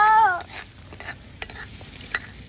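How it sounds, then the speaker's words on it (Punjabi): Tadka tempering for dal on a stove, sizzling and stirred in a pot: a brief tonal squeal at the start, then scattered scraping and clinking of a spoon against the pot over a soft sizzle. "ਚਲੋ ਪਾਓ ਜੀ ਤੜਕਾ"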